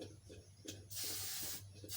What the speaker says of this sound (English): we're just gonna go ahead and just spray it with a little bit of oil